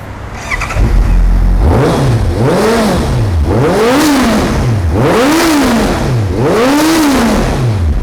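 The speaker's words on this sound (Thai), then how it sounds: "เดี๋ยวลองฟังเสียงเครื่องยนต์กันดูนะครับ" A motorcycle engine idles, then revs up and down about four times in a steady rhythm, loud and close.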